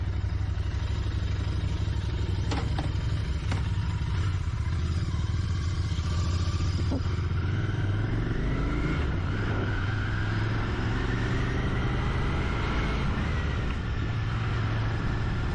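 A Royal Enfield Continental GT 650 cafe racer motorcycle on a road ride, its engine droning steadily with shifting pitch as it accelerates and changes gears, accompanied by rushing wind, close and continuous throughout.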